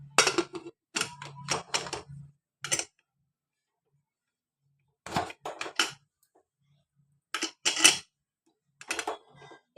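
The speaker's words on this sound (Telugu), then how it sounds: "ఇప్పుడు కుక్కర్ విజిల్ అయితే పెడుతున్నాను" A whistle is fitted onto a pressure cooker lid, making several short bursts of sharp metallic clicks and clinks separated by quiet gaps, close and fairly crisp.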